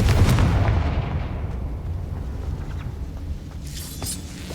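A Confringo spell explodes in Hogwarts Legacy, opening on a heavy, booming blast that fades into a long rumbling tail, with a faint crackle near the end.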